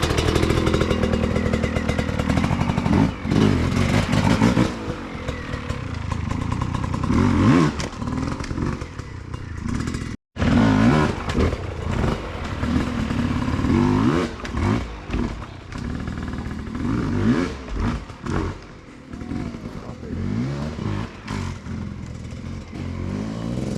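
Trials motorcycle ridden over an obstacle in training, its engine loud and close, revving and blipping hard with crackling bursts and clattering from the bike, continuous throughout with a brief cut midway.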